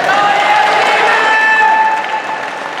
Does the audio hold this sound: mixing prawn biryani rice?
no